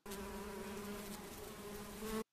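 A bee buzzes continuously at close range, a steady droning hum with a clear pitch that holds for a couple of seconds and then cuts off sharply, used as a sound effect in a children's story.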